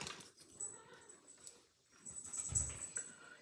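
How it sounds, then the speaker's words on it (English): Dogs growl in the background of an indoor card-making session: faint, low, intermittent rumbles with a slightly stronger burst near the end. "All I hear is growling behind me."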